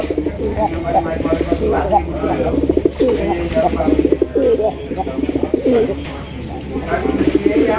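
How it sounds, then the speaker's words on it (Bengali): Crested pigeons cooing close by in a loft, with repeated soft rhythmic coos and bursts of calls throughout, and a person talking over them. "এই যে ডাক শুরু হয়ে গেছে।"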